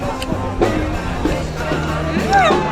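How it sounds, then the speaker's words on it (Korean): A crowded, scenic tourist spot beside a bridge, with a dense murmur of many people and faint background music throughout, the occasional louder voice or shout rising out of the steady crowd noise. "지금 저 뒤에 음악 소리도 그렇고 사람들 너무 많은 부비는 것도 그렇고"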